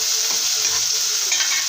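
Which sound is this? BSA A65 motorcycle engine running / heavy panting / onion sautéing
onion sautéing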